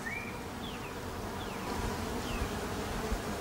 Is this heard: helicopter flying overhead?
no